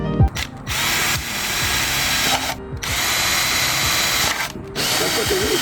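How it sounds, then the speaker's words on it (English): A power drill whirs loudly in three sustained bursts with brief pauses between them, close up and running alone, drilling holes in a rear diffuser for a BMW F83 M4. "let's go ahead and drill these out on both sides"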